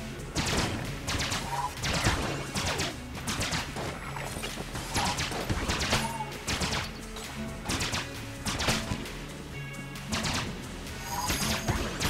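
Rapid triple-shot gunfire bursts from a gun in the Enter the Gungeon video game, repeating in quick clusters over music and crashing impacts throughout.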